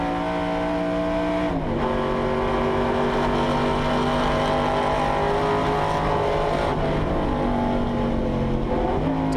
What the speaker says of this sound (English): just listen to this big V8 sing its way round the mountain